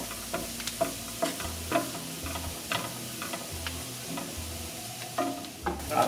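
Cabbage cooking in a pan for a vegetable burger, with a soft steady sizzle and repeated scraping stirs of a spoon against the pan at close range, no talking.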